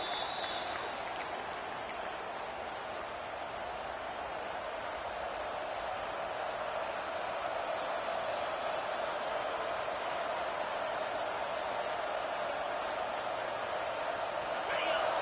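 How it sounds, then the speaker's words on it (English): A broad, steady roar of a large college football stadium crowd fills the space, constant and distant, with a commentator talking over it. "this crowd is fired up. Listen to this noise here."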